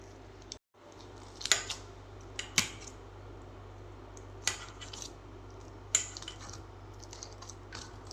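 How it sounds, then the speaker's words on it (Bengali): A fork scrapes and taps against a bowl while mashing avocado mixed with lemon juice, giving a few distinct clinks at irregular intervals over a low, quiet background. "কাঁটা চামচ দিয়ে করলে স্মুথলি এটাকে তোমরা স্ম্যাশ করতে পারবে।"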